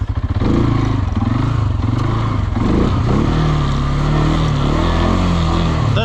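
CF Moto 520L ATV engine runs in four-wheel drive and low gear through snow and mud, a loud, close, steady low drone with slight rises in revs throughout.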